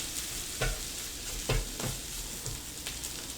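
Breakfast food frying in a pan while being stirred and flipped, a steady sizzle broken by a few louder scraping stirs, close up with no voices.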